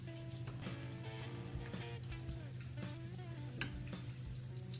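Chicken pieces coated in flour batter for a KFC-style crispy recipe fry steadily in hot oil, giving a continuous close crackling sizzle with small pops and bursts throughout, a faint hum underneath and no talk.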